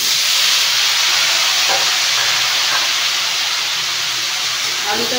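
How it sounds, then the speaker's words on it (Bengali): Potatoes fry in an oily pan with a steady, loud hiss and sizzle that never lets up, a few faint clinks rising now and then. "আলুটা দিয়ে আরেকটু ভালো করে ভেজে নেব।"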